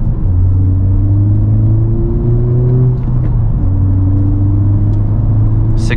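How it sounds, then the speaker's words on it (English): A 2021 Honda Civic Type R engine pulls hard under throttle, a steady loud drone that climbs in pitch, dips briefly at a shift around the three-second mark, then rises again, with road rumble beneath and no talking. "Let's give it a decent amount of throttle."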